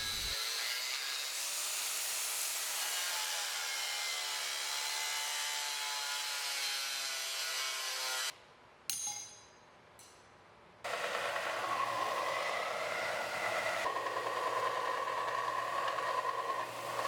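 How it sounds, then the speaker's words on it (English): A grinder shapes the profile of a San Mai steel knife blade, a steady close whining grind that breaks off briefly midway and then resumes with a bright, sustained tone. "Using the grinders, I'll clean up the profile."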